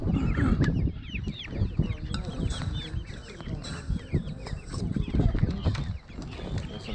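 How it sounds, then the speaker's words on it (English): Chickens cluck repeatedly at an exotic bird and animal swap in Waverly, Iowa, a busy mix of hen calls from several birds close by, with people talking faintly in the background. "A bunch of chickens."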